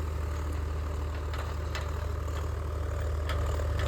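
A farm tractor's engine idles in a field, giving a constant low, throbbing hum with a few faint clicks and knocks over it.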